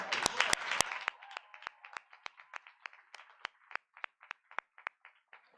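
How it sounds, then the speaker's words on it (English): Audience at a Class of 2022 graduation ceremony gives a round of applause: a few sharp claps open a brief burst that thins quickly into sparse, scattered individual claps fading out. "Give another round of applause for Mr."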